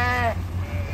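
Sheep bleating at night as a flock is moved with a spotlight on a cattle farm: one clear, wavering bleat close by, followed by a low steady hum and rustling.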